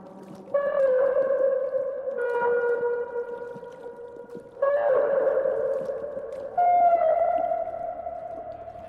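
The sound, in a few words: whale-like sounds in a video game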